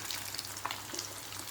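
Chicken frying with onions and curry leaves in a pan, a steady close sizzle with faint scattered pops and no talk.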